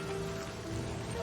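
Steady rain in the video game Livber: Smoke And Mirrors makes an even, dense hiss with no breaks or voices, holding at a constant level throughout.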